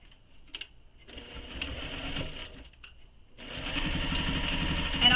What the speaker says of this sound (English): So let's sew this with the seam allowance she gives in the pattern.